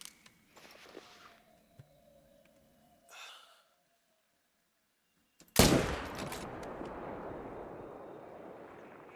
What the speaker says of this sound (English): I'll take the shot.